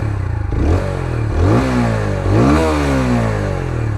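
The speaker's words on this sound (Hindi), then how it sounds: "Let's start this engine." Engine of a 2026 TVS Apache 160R motorcycle in sports mode, revving repeatedly with rising and falling pitch sweeps over a steady rumbling idle, loud and close.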